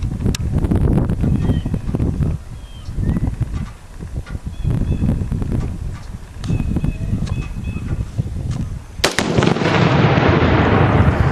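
Outdoors in wind, a rifle fires a hollow-point .223 round into one pound of tannerite set at a tree, and a single loud, sharp detonation bursts near the end, followed by a lingering roar of noise.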